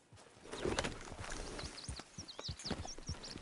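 In the Red Dead Redemption video game, a horse's hooves clip-clop at a steady walking pace over ground, with birds chirping faintly in the background.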